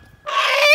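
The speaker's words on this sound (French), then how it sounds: "L'attaque du coq." A rooster in a fight gives a loud, close, strained squawking cry that starts abruptly after a moment of near silence and holds for under a second.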